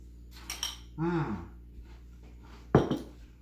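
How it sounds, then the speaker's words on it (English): A metal spoon is grabbed from a set of freshly washed cutlery in a kitchen, giving a few close clinks and rattles, one sharp clatter near the end, with faint breathing and background noise. "I'm going to grab a spoon my lovely wife washed this morning"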